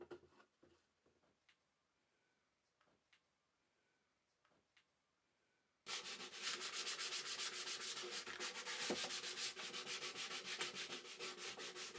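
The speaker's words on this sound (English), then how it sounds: "I'm just giving the box a once over with sandpaper after the initial assembly." Sandpaper is rubbed over a freshly assembled wooden box built in the style of a Japanese toolbox. After several seconds of near silence with a few faint taps, steady rhythmic scratchy strokes start up close and keep going.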